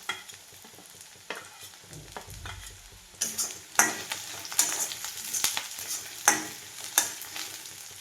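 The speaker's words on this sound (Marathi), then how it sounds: "आता हा ओला नारळ मी भाजून घ्यायला लागली आहे।" Fresh grated coconut roasting in a pan alongside onion for a village-style brinjal curry, a low frying hiss joined by a series of louder, rhythmic spatula scrapes and stirs.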